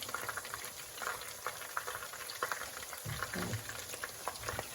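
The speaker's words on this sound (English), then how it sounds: "if you don't hear and see the bubbling" Fish taco batter frying in hot oil, a soft, steady bubbling sizzle with small crackles and pops, fairly quiet and close, with no voices over it.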